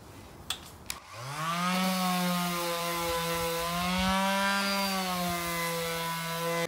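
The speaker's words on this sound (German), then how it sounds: "jetzt schleifen wir die Balken alle noch mal ein bisschen glatt." A power sander starts with a rising whine and then runs steadily and loudly on wooden beams for a bed frame, its sustained buzzing drone grinding on without pause.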